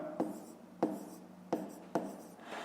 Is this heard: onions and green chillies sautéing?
no